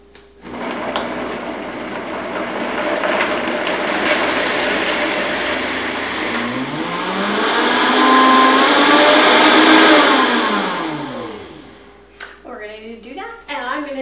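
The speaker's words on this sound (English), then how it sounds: "And then we're gonna blend that until smooth." A blender whirring loudly while blending cashew sour cream until smooth; the motor pitch rises and falls, then it stops and a person speaks briefly.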